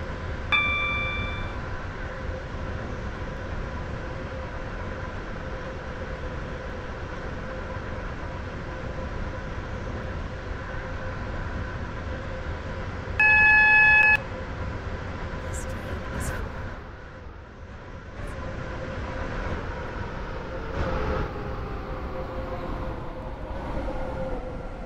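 A passenger train in the Roblox game Stepford County Railway runs toward a station with a steady rumbling hum, a brief electronic chime, and an onboard voice announcement over the motor noise.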